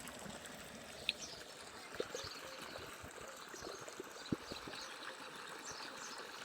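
Water flows from a borewell in a faint, steady trickle and stream, with a few soft splashes and knocks scattered through it and no talk.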